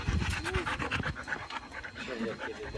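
A dog pants rapidly and steadily up close, with excited voices talking over it.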